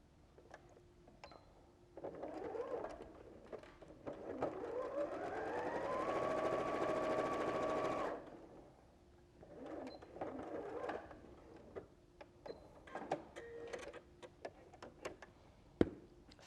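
A sewing machine runs a steady stitching burst for several seconds while seaming a quilt block with a scant 5 mm allowance, framed by ticking handling clicks before and after, and no talking.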